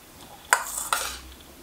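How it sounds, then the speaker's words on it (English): Homemade natto beans get stirred in a pot with utensils, giving two sharp clinks against the pot and soft scraping between them, close and quiet with no talking. "just stir it a lot until it breaks up and is distributed amongst all the beans"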